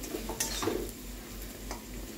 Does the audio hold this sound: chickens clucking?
no